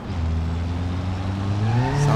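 Turbocharged inline-four engine of a front-wheel-drive car in BeamNG Drive, droning steadily and loud with a rising pitch as it accelerates, a faint tire squeal creeping in near the end.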